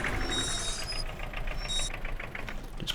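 A tractor engine idles nearby on a farm where oats are being cut by hand with a scythe, a steady low knocking rumble running throughout with faint high whines over it.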